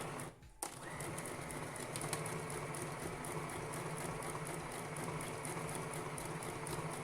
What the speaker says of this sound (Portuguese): A partir daqui eu vou começar a costurar.